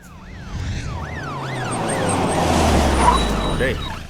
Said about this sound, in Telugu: పోలీస్ జీప్ వచ్చింది, రా.